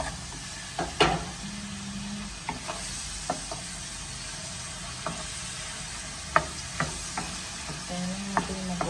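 Banana pieces frying in a teaspoon of butter in a pan give a steady close sizzle, with scattered utensil scrapes and taps against the pan throughout and no voices.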